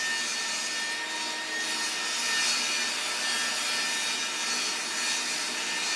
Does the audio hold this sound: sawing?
yes